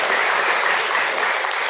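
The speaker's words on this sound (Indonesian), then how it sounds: "Boleh tepuk tangan untuk komunitas ini dulu." Applause from a youth revival meeting crowd, a short, dense, continuous burst of clapping at a steady level throughout.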